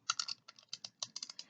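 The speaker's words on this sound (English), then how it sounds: "So you use the silicone mat and then you just run your tape runner" A tape runner is drawn across a paper doily on a silicone mat, producing a quick run of close, crisp ticking clicks in short uneven bursts.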